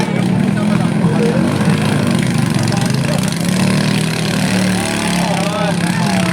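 Boat engine droning steadily through a bangkarera boat race in Naujan, Oriental Mindoro, a continuous loud motor hum with crowd voices and talk over it.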